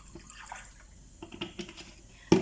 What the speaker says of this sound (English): let's put 1 cup of water.